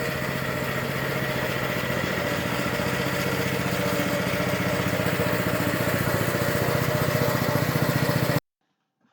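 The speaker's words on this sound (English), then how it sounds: "Even mowing at a leisurely pace, it does not take long to mow the entire lawn." A lawn mower runs while cutting a residential lawn, giving a steady, close engine drone with no voices for about eight seconds before it stops abruptly.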